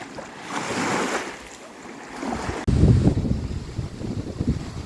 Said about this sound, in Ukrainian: сильний вітер, була жарища до обід. Після обід трохи накрапав дощик, піднявся вітер і дивіться, яка хвиля йде